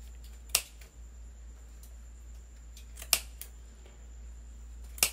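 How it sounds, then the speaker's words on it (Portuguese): Scissors snip through leftover nylon stocking in a few sharp, separate cuts spaced a couple of seconds apart, close and crisp against a quiet room. "Vou passar aqui a minha tesoura."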